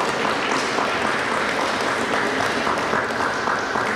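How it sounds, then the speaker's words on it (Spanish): A church congregation applauds to welcome Rev. Elsie Quintanilla of New Covenant Church at Zion United Methodist Church, a dense, steady wash of many hands clapping that holds evenly throughout. "Así que la recibimos con un aplauso."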